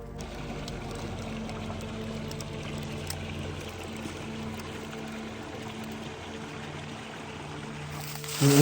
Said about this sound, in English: the creek running right through the community